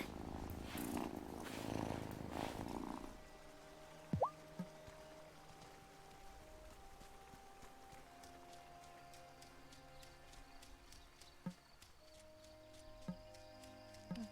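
Cat purring in the video game Wylde Flowers, a soft steady rumble that starts loud and close, then fades under quiet game music with a few faint chimes.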